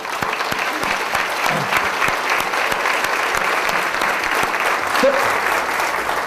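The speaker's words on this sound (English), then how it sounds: "give yourself a giant round of applause for what you have done" Audience applause at a motivational talk, a full continuous round of clapping from a large crowd, steady and fairly loud throughout.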